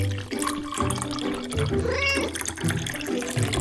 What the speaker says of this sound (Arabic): تفضلي، أنت قطة مطيعة